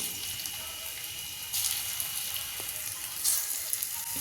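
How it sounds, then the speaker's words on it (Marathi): Colocasia leaf rolls (alu vadi) shallow frying in a hot pan give a steady soft sizzle, with a couple of brighter bursts of crackle and a faint clink, close and without talk. "आपण आता शॅलो फ्राय करायला घेऊ."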